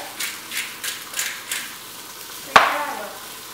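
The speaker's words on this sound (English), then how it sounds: "We're going to let that sit while our vegetables brown a little bit." Vegetables browning in an Uno Casa Dutch oven during lamb stew cooking: soft rhythmic stirring scrapes followed by one sharp metallic clank and a hissing sizzle, close up, with no talking.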